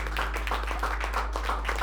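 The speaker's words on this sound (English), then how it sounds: "If we could give a round of applause." Soft, distant clapping from an audience at an awards presentation for a product launch campaign competition, a light scattered patter of hands over a steady low hum.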